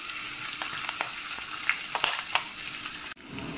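Crushed garlic and cumin seeds frying in hot oil for rajma: a continuous bright sizzle with scattered pops and crackles, close and steady, briefly dipping near the end.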